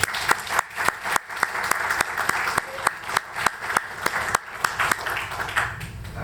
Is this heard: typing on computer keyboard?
no